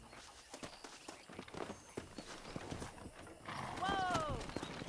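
Wild horses clip-clop over open ground in the Red Dead Redemption video game, steady hoofbeats and rustling movement, a horse whinnying loudly near the end, with a voice talking over it.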